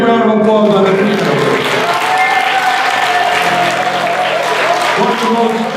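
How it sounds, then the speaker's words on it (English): An audience at an Eastern CT Symphony performance applauds a piano player, dense loud clapping and cheering that carries on steadily for several seconds. "Let's give Joe a big round of applause on the piano."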